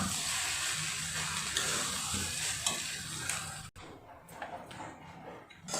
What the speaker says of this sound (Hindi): चावल डालने के बाद इसको हम अच्छी तरह घुमा के 5 मिनट सीजने देंगे